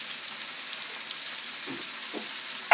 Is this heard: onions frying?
yes